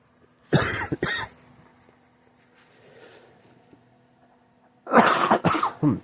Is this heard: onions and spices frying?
no